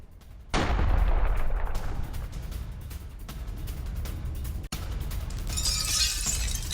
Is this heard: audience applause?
no